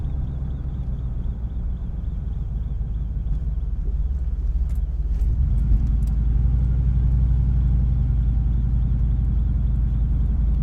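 A luxury travel van that sat unused for more than three years drives along, its engine rumbling low and steady and swelling louder partway through as it pulls away, with no talking.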